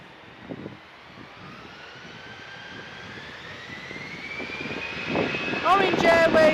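EasyJet jet airliner at Manchester Airport, a distant engine roar that slowly swells in loudness as it approaches, with a rising whine and brief background noise, steady and unbroken throughout.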